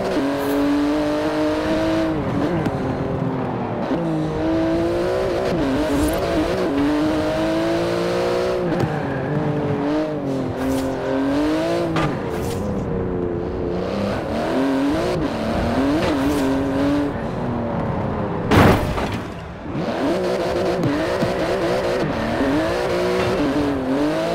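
Porsche 911 GT2 RS with magnesium wheels and titanium exhaust racing in Forza Horizon 4, its engine note loud and constant, rising and falling through gear changes with tire squeal, one sharp thump near the end.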